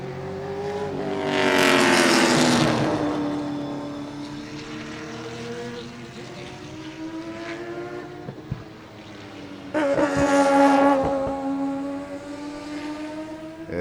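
Race car at Sebring during a Turkey Trot race, engine roaring loudly past with a rising and falling pitch, then a steady drone and a second loud pass nearby.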